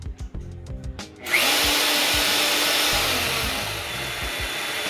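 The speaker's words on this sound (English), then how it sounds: "there you can hear the motor change to RPM" A Walter IceCut 250P power tool motor switches on after a few light knocks and spins up into a steady, high-pitched whine that holds at speed, close and fairly loud.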